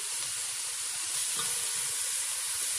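Sliced onions browning in hot oil for chicken korma give a continuous, even sizzle close by, with a slight rise in crackle near the end and no one speaking.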